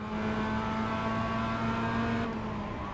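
Mazda MX-5 race car on track, a steady in-car engine drone with strong sustained harmonics and little change in pitch, loud and continuous throughout.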